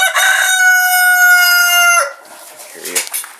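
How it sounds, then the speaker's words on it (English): A rooster in a new pen crows one long loud cock-a-doodle-doo close by, followed by softer clucking and rustling from the fowl. "A couple of the roosters."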